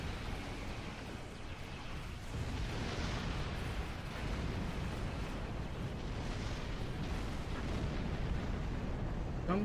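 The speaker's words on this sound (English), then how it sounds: "So many explosions." Continuous rumbling explosions and blasts from the video game Star Trek Online fill the clip, a dense, loud barrage of booms with no pause between them.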